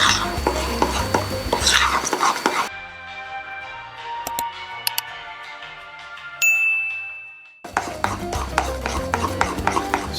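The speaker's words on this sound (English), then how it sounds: "stir it, beat it until it's smooth" Buttermilk cornbread batter being stirred and beaten in a bowl, a steady scraping, rhythmic churn at the start and again at the end, broken by a quieter middle stretch of ringing, tinkling tones.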